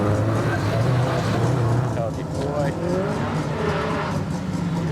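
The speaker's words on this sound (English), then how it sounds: "And there's Nathan Robbins up there now, yep. In the WRX Impreza" A Subaru WRX Impreza race car runs a hillclimb course with a continuous engine drone at a distance, heard under a commentator talking throughout.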